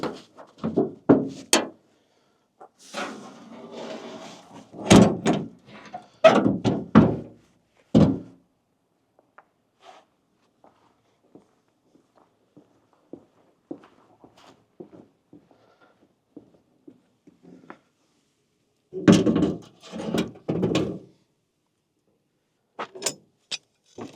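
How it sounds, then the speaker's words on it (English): Tailgate being removed from a first-generation pickup truck, a series of metallic clanks, thunks and scraping rattles in irregular bursts with quiet gaps, close by and fairly loud. "Also going to take the tailgate off,"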